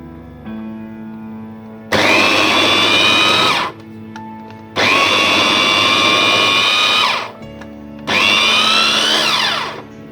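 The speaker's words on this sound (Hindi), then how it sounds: "तो हम इसको चॉपर में कर रहे हैं।" An electric chopper coarsely grinding cauliflower for kofta whirs loudly in three long bursts of about two seconds each, separated by short pauses, with no talk.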